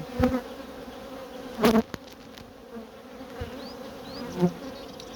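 Honey bees buzz and drone around the frames of an open hive in an apiary, a steady insect hum with a few louder passes close by, and no talking.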